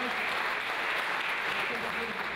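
Faint, continuous applause fills a council chamber in Vitry-sur-Seine as the mayor's sash is handed over, with a voice talking over it throughout.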